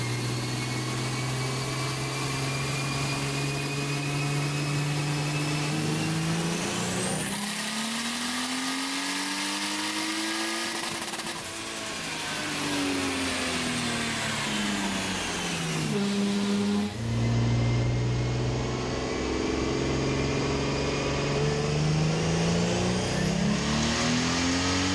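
A 2JZ-engined Toyota JZX90 revs hard on a dyno in fourth gear, with two back-to-back runs of rising engine pitch separated by a brief drop and lull, loud and sustained throughout.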